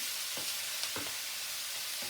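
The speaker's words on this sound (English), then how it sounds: "So I'm going to add in all the other ingredients that we set aside, so just fire it into the pan." Frittata ingredients sizzling in a hot pan as they are stirred, a steady quiet frying hiss with several soft scraping strokes of the utensil spaced through it, no talking.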